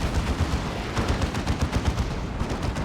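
Heavy weapon fire from the Beamy Death Gun in the Warhammer 40,000: Dawn of War 2 strategy game, a loud run of rapid, rhythmic blasts and thuds in a busy battle mix.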